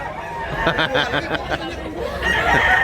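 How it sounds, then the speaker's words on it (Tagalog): Rooster at Tabunok market in Cebu giving a clear crowing call with clucking around it, close and fairly loud against faint market chatter. "Gandang manok."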